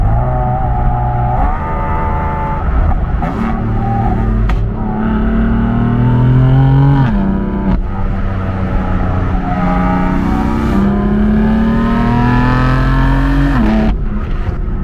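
A 425 hp F82 BMW M4 engine pulls hard through the gears, its loud in-cabin drone climbing in pitch, dropping sharply at each upshift and rising again, with no talking.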